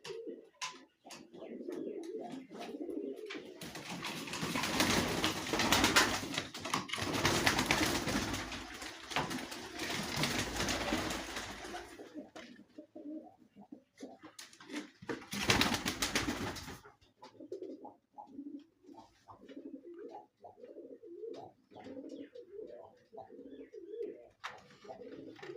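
Pigeons in Shahrixon district, Andijan region, coo in low, soft rolling phrases, broken by long stretches of rushing broadband noise that could be fluttering or handling.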